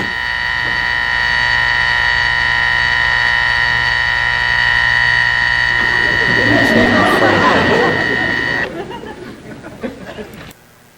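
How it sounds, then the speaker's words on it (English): Three alarm clocks ring together in a 1963 television scene, making a loud, continuous, steady electric buzzing tone that carries on with a muffled voice mixed in before it cuts off abruptly near the end. "So this guy set 3 different alarms."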